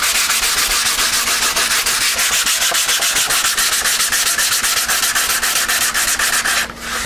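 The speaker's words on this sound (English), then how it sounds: "A lot of guys don't like the sanding part." Hand sanding a model aircraft wing from a SIG Kougar build, a steady rapid back-and-forth rasping scrub, loud and close, continuing without pause for several seconds.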